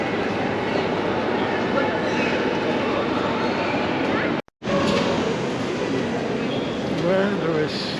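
A train arriving at a station toward Antwerp rumbles steadily with a low mechanical roar and faint clatter, briefly cut off midway, while people talk quietly in the background.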